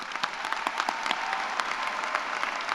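An audience at a college of engineering undergraduate graduation celebration claps for the graduates, with steady, close applause and distinct individual hand claps standing out throughout.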